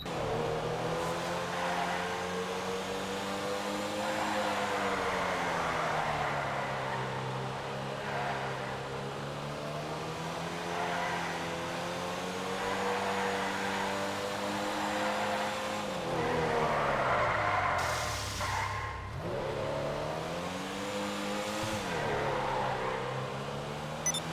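The Pista Comet S2 sports car from GTA V Online drives continuously, its engine droning steadily and rising and falling in pitch as it accelerates and eases off, with a brief tire squeal near the end.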